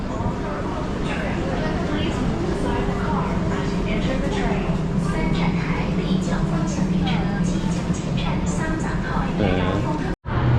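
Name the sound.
metro train arriving at station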